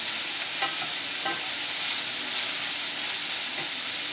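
Onions frying in a pan, a steady close sizzle with a few soft scrapes as they are stirred.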